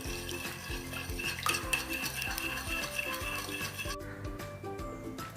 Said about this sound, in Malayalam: നന്നായിട്ട് മിക്സ് ചെയ്യാം.